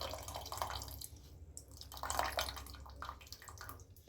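Tamarind water splashes and trickles into a pot of Mandya-style village dal sambar, a faint, close liquid pouring with small dripping patters over several seconds and no voice.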